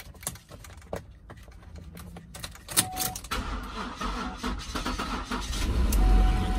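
An old Pontiac Trans Sport van is started: keys jangle and clicks sound, then the engine cranks and catches, settling into a steady, growing rumble up close.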